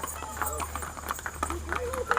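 Horse hooves clip-clop on a path at the horse market in Matheran, a light, steady patter of steps close by under continuous conversation.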